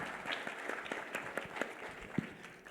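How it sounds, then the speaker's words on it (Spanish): An audience at a panel on artificial intelligence in large companies gives thin, scattered applause, quiet and fairly distant, with a few individual claps standing out. "Un aplauso,"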